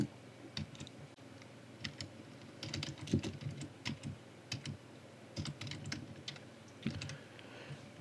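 Quick bursts of typing on a computer keyboard, close and crisp, with irregular clusters of key clicks separated by short pauses, set against quiet room tone with no voices.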